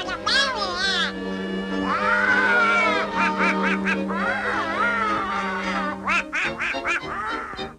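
Donald Duck's squawking, quacking cartoon voice performed by a voice actor, a human voice imitating a duck: continuous, loud and close, with rapid nasal syllables running almost without pause.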